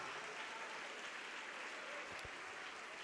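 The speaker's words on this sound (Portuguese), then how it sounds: "E vamos aplaudir mais, vamos aplaudir mais." A congregation applauds during a church service: a faint, steady wash of many hands clapping, sounding distant and even throughout.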